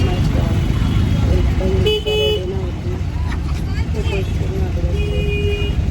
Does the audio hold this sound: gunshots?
no